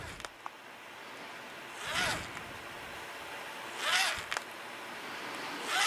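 A blade's back edge scored repeatedly along a fold line while building a guitar, giving two distinct scraping passes with small ticks between them, close and fairly loud with no talk.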